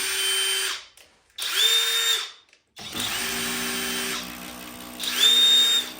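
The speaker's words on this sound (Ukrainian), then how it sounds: "Закручується, бачите, більше швидкості, відкручується навіть по звуку відрізняється, так?" FLEX compact cordless drill driving a screw in and reversing it out: two bursts of high whining motor rising in pitch with a short pause between, then a long run and another burst, close and loud, no talk.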